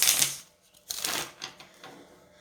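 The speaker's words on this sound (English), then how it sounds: "let me get to shuffling some cards" Tarot cards being shuffled in quick riffling bursts, a loud crisp flutter at the start followed by a few shorter, fading shuffles close to the mic.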